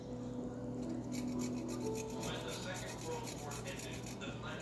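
Small sweet gherkin pickles rubbed over a grater, giving a steady close rasping scrape that runs the length of the clip, with a low background hum underneath.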